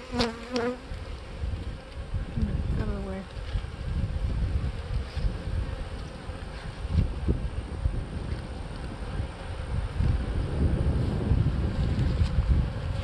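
Honeybees buzz steadily around a hive during feeding, a dense close drone with a few individual bees flying past near the start, under light wind noise on the microphone.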